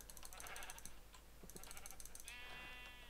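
Minecraft sheep bleating several times in a game world, short nasal cries over a steady hiss with faint clicks, moderately loud and with no talking.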